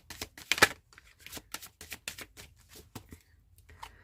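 Tarot cards shuffled by hand in a rapid string of soft, close riffling slaps and flicks, irregular in rhythm, with no talking.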